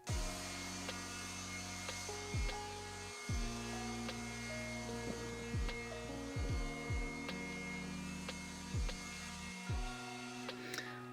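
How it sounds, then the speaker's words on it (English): A leaf blower runs continuously to clear up a potting mess, its motor tone rising and falling in pitch as it revs and eases off, steady and fairly close throughout. "I'm just gonna grab the blower and just get it cleaned up."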